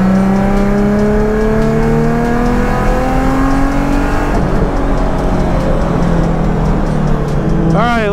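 A procharged Nissan 350Z accelerates hard on a race track, engine revving loud and close with rising whine through the gears, one shift dip, then a high supercharger whine climbing again near the end.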